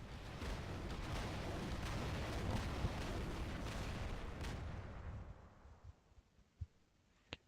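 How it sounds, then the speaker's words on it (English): A heavy machine gun prototype in the War Robots video game fires in a dense, continuous rattling roar for about five seconds, then fades, leaving a few isolated sharp bursts and pops at low level. "that concludes the demonstration of the new machine gun prototype"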